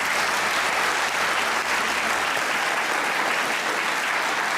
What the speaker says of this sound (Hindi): तो अम्मी के लिए ताली होनी चाहिए।